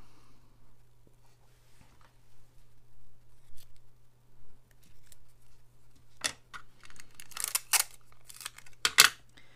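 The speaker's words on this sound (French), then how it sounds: "je coupe mon ruban en 3." Scissors cut ribbon into three pieces at a card-making craft table, heard as a few sharp, close snips clustered in the second half after a quiet stretch of faint rustling and a low background hum.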